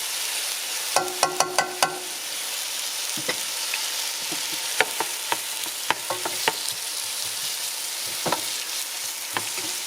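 Chopped red onion sizzles in a pan of curry, a steady close frying hiss broken by scattered clinks and scrapes of stirring, with a burst of clatter near the start and no speech.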